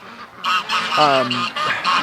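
Geese honking and ducks calling close by in a series of loud, overlapping nasal calls, with a brief harmonic honk in the middle, from birds kept for hatching.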